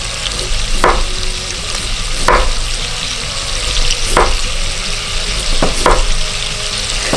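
Fat sizzles steadily in a frying pan for braised sauerkraut and duck, a constant crackling hiss broken by a few louder stirring scrapes.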